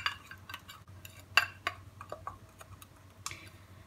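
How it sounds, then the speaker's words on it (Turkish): A baking soda and tomato face mask being stirred with a small utensil in a bowl, giving quiet, irregular clinks and scrapes of metal against the dish. "Hepsi özleşene kadar karıştıralım."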